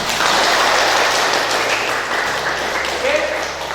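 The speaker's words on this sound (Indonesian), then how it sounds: "tepuk tangan untuk kita semua." Students in a PE class clap together in a loud, dense round of applause that fades slightly toward the end. Some voices mix in underneath.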